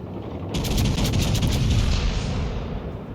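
Heavy 16-inch naval guns of the battleship Kansas in World of Warships fire a broadside, a loud sustained rumble of overlapping booms and blasts lasting several seconds, with no talking.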